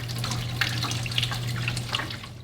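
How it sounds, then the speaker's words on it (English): Filtered water pours into a slushy machine, a continuous splashing trickle with a low steady machine hum underneath, fairly close and moderately quiet. "put in my filtered water first"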